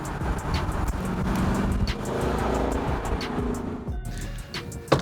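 A Ford Mustang V8 running on synthetic CO2-neutral petrol rumbles steadily and loudly nearby, with a sharp rise and a brief burst of revving near the end.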